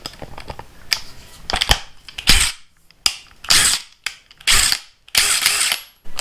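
A Makita XWT14 half-inch cordless impact wrench drives a 4-inch lag bolt in repeated bursts of rapid, harsh hammering clatter, separated by short gaps of near silence, loud and close.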